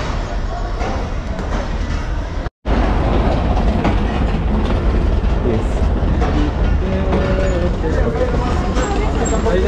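A Pakistani sleeper train running between Karachi and Larkana, heard from inside with a loud, dense rumble and rattling clatter of the carriage, cut by a brief dropout, while voices murmur beneath the noise.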